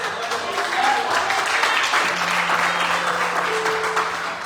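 Church congregation applauding during a Spanish-language sermon, steady clapping mixed with voices and a held musical tone underneath.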